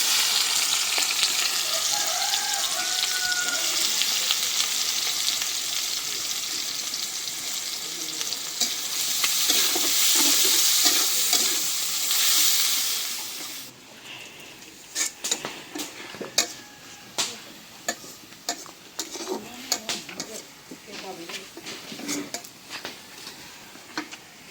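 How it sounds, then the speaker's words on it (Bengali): Onions fry and sizzle in a pan for a home-cooked Bengali dish, with a steady hiss for the first half, then the frying quiets while a utensil scrapes and clicks against the pan in irregular strokes. "পেঁয়াজ ভাজে নিলাম"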